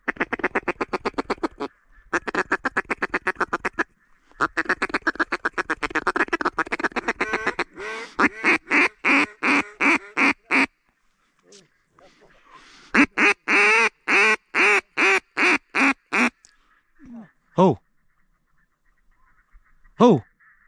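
Ducks quack during a duck-hunting outing in western Georgia, in rapid repeated bursts of nasal quacks broken by short pauses and heard loud and near.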